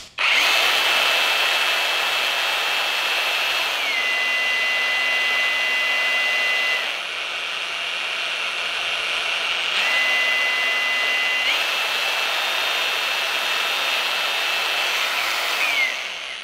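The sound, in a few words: Vrill VAG2100 cordless angle grinder running at variable speed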